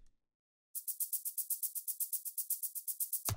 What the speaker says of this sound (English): we need to kind of balance it with a like more brighter version of the same shaker